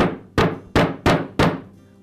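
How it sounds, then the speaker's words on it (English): A hammer lightly tapping a new bearing onto the belt drum of a Porter Cable sander polisher: four sharp, close metallic taps spaced about a third of a second apart, each with a short ringing decay. "lightly tap it in place with a hammer"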